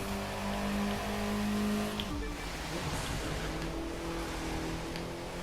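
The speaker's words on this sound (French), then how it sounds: "elle patine un peu quand on met la nitro" Video-game Mini Cooper S spinning its wheels under nitro: a loud, continuous engine drone with shifting revs and a pitch drop midway, a tire-squeal texture running throughout.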